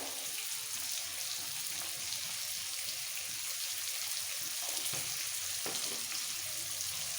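Potatoes fry in oil for a Bengali pea and potato pulao, giving a steady, fairly quiet sizzle with a few soft stirring scrapes and spatters mixed in.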